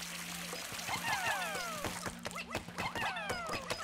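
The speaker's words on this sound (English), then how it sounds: "we're gonna have to use our blue Pikmin to get rid of this water thing." Water spout in the video game Pikmin 4, a splashing, gushing stream of water with repeated sharp splatter hits and chirpy game sound effects layered over a low hum, no voices.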